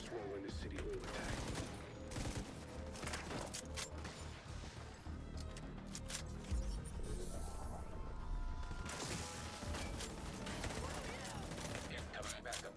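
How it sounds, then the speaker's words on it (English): Gunfire in the video game Division 2 sounds as dense bursts and rapid volleys with crashes and mechanical clatter, steady and busy throughout. "I hear gunfire."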